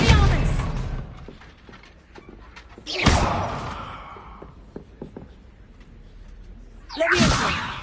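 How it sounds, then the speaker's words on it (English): Expelliarmus spell cast in the game Corvus: a sharp whooshing crack and slam, with a second similar burst toward the end and quieter clatter between. "Expelliarmus!"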